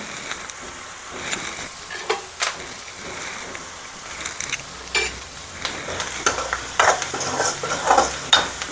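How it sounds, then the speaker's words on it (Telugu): Onions with salt stirred in a pan for dhaba-style paneer butter masala, with soft sizzling and scraping spoon strokes that come in irregular bursts, fairly close and moderately quiet. "సాల్ట్ వేసిన తర్వాత ఒక్కసారి కలుపుకోండి"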